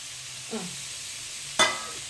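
Green chili, carrot and peas hit a hot pan for vegetable fried rice, giving a soft stir and then a sharp, close sizzle that burst out and fades into a steady frying hiss.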